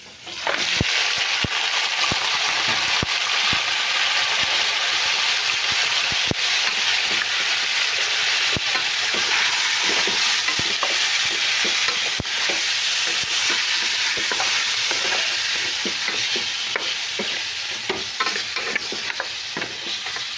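Steady loud sizzling of meat frying with onions in a hot pan, with occasional scraping and stirring knocks throughout, no voices.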